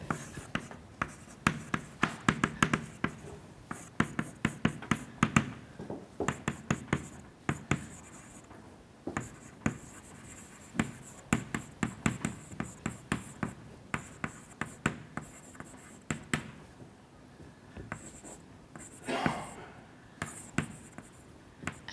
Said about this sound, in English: So now I'm going to write down the second question.